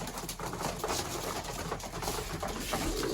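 Pigeons in a coop being fed, a dense continuous mix of cooing, wing flutters and scratching close by, steady and fairly loud throughout with no talk.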